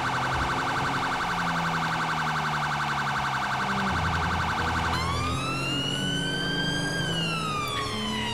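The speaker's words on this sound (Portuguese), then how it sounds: "a gente desliga a sirene, cara" A police vehicle siren in the video game GTA V wails loudly and without a break, then switches to a sweeping, rising and falling tone partway through. No voices can be heard over it.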